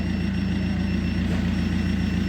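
An Opel car engine, just started remotely by its alarm system, idles in a steady, even low hum that is close and moderately loud, with no talk.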